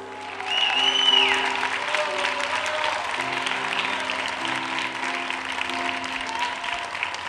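A large church congregation applauds steadily during a worship service, a dense sustained clapping that swells early and continues evenly, with sustained music tones beneath.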